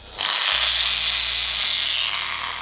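A StartPro angle grinder spins up and runs at its lowest speed setting, a loud steady whine with a low hum close by, no talking.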